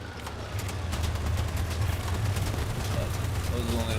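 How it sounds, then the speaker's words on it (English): Machine guns fire in the vehicle combat game Crossout, a dense, rapid stream of shots under a rumbling battle din, with a voice talking over the noise. "I do have my sneaky machine guns"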